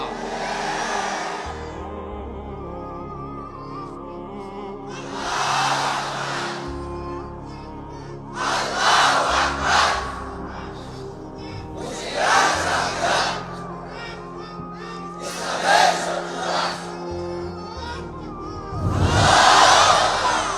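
Crowd at a religious political rally in Bangladesh chanting slogans in loud rhythmic bursts, with several swells of massed voices separated by quieter stretches of background hum.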